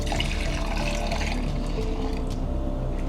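Water being poured into oils and butters melted over a double boiler while making avocado hand lotion, a steady close trickling and splashing that runs the whole time without talk.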